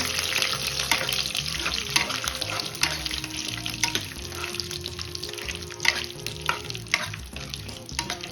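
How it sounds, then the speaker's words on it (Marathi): Cashews, almonds, charoli and raisins frying with coconut in a pan, a continuous sizzle with frequent spatula scrapes and stirring, close and moderately loud, no voices. "त्यासोबतच बदाम चारुळी मनुके आता हे सर्व ड्रायफ्रुट्स एकदा परतून घ्यायचे छान"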